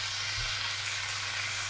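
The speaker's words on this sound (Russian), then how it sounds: "к луку Костя добавил мясо, добавил перец. Все обжаривает." Meat, onion, bell pepper and carrot fry together in a pan with a steady, even sizzle that stays close and fairly loud throughout, with no talking over it.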